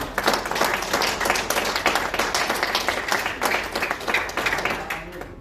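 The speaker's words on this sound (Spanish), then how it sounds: "Denle un aplauso fuerte al Señor" A church congregation claps loudly for the Lord during a sermon, a dense, lively stream of many hands with individual sharp claps audible throughout, tapering off toward the end, with some voices mixed in.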